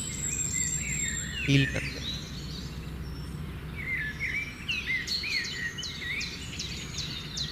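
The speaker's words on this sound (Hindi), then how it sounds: "पक्षी कितने प्यारी-प्यारी आवाज़ें निकाल रहे हैं" Birds chirp outdoors with quick, high twittering calls over a constant buzz of insects, while a calm voice speaks softly at the start.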